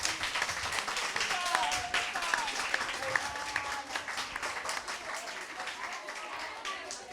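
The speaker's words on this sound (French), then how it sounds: "Alors, on va l'applaudir." An audience claps for a young studio guest on a French talk show, a lively, dense spatter of applause close by that holds steady and slowly tapers, with voices and a few cheers mixed in.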